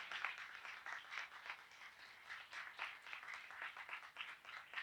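A church congregation claps together at a Sunday prayer service, a dense, steady wash of many hands that swells and dips in loudness throughout, with no talking over it.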